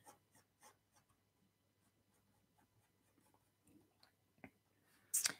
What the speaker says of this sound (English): I'm doing a really light sketch